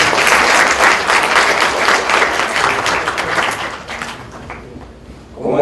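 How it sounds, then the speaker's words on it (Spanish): Applause fills a lecture hall during a university chair session, loud and dense clapping that gradually thins and fades toward the end. "Un aplauso."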